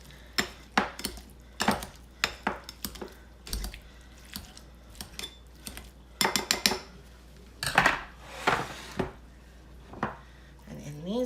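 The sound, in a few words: pastry cutter chopping food in a bowl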